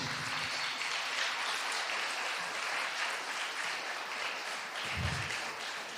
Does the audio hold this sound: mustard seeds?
no